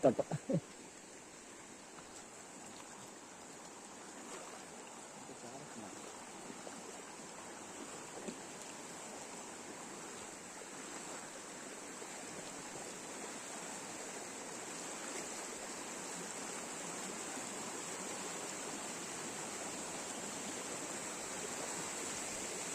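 Clean river water runs over rocks at a rural stretch of river near Kundapura, a steady, even rushing wash that holds through the whole span. A few faint knocks and rustles come near the start.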